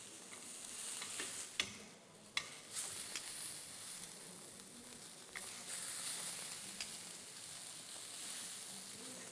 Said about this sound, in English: just evenly make sure all surface of the meat touch the frying pan